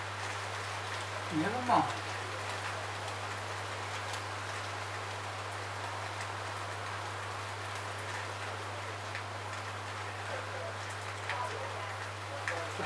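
Steady rain pours outside a garage on a rainy afternoon as an even, faint hiss of drops continues throughout, over a low hum, with a brief spoken remark near the start.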